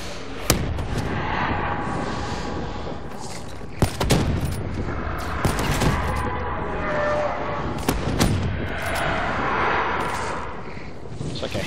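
Rocket-bullet gun fire in Call of Duty Black Ops 3 zombies mode, loud sharp blasts at irregular intervals, with several hard reports standing out over dense continuous battle noise and explosions.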